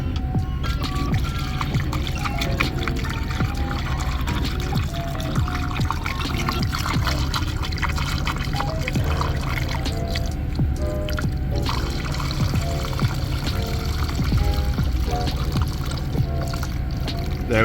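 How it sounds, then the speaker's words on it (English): Coolant poured into the cooling system of a 2008-2017 Chevy Traverse, Buick Enclave or GMC Acadia during radiator and cooling fan replacement, a steady continuous liquid pour that stays at one level for the whole stretch. "we're going to fill the cooling system until the coolant bottle go all the way up"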